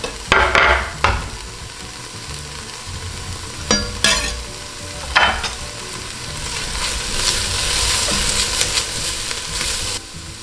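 Four garlic cloves and a large onion hit a hot pan with a loud sizzle, followed by bursts of stirring scrapes and a steady frying hiss that swells later, heard close and without speech.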